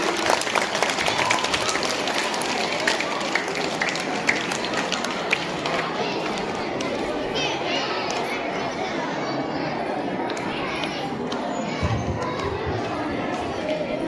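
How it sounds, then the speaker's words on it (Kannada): Sustained applause from a crowd at a school Kannada Rajyotsava cultural program, dense clapping that carries on steadily for the whole stretch without letting up. "ಜೋರಾದ ಚಪ್ಪಾಳೆ ಮೂಲಕ ಅಭಿನಂದಿಸೋಣ"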